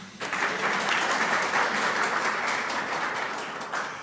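A crowd at an annual choir concert breaks into steady applause, many hands clapping in a full, continuous roar that starts abruptly and fades a little near the close.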